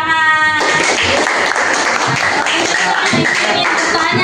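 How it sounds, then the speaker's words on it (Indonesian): Classroom applause during a Christian religious education teaching practice session, a loud, sustained burst of many hands clapping that begins abruptly after a short moment of another sound. "Berikan tepuk tangan"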